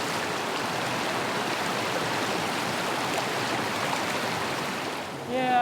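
A strong river current rushes and churns without pause, a dense, loud broadband wash of water heard close up along a trekking route in Papua New Guinea.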